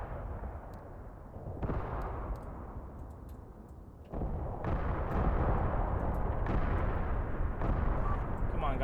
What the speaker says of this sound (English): We are receiving some artillery fire ourselves.